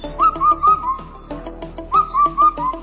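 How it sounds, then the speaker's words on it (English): A four-note cuckoo whistles its clear descending four-note phrase twice, the notes bright and evenly spaced over a steady harmonic background. "This is a four-note cuckoo."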